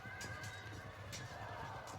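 Cavalry horses in the Field of Glory II video game whinny over a constant rumble of hooves and battle noise, with repeated short neighs rising above the steady din.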